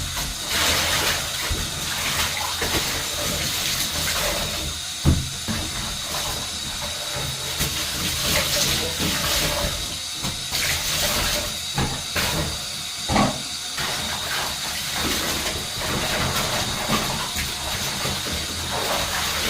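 Water runs steadily while laundry is rinsed by hand, a continuous broadband rush with a few soft knocks and splashes mixed in. No one speaks.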